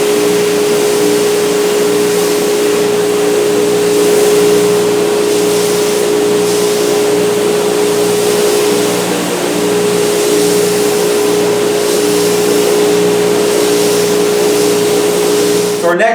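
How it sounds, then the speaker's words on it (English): A bandsaw and a dead-head sander shape a wooden guitar neck, giving a loud steady machine drone with a constant hum tone that runs continuously and close up throughout. "let's go over to the bandsaw, we'll hack the rest of this off, and we'll work this in with the deadhead sander"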